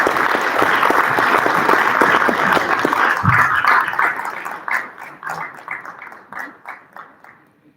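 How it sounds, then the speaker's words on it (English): Audience at a school board meeting breaks into loud, dense applause that holds steady, then thins into scattered individual claps and fades out. "Another round of applause for Kaden"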